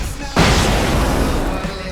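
Fireworks in the video game Alan Wake go off with a sudden loud boom, then a dense, rumbling crackle that fills the space and slowly tails off.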